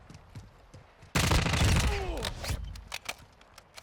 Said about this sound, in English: I think there's also a different sound for when you get the kill streaks too.